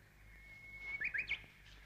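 A small bird gives a few quick, faint chirps in a short cluster outdoors, heard against a low background hum with no talking.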